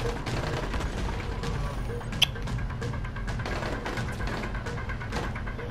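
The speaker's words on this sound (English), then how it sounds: "there's someone shooting from the bedroom" Gunfire in the zombie survival game Dying Light, a steady spatter of shots and bursts running throughout beneath dense in-game ambience, with one sharper crack standing out midway.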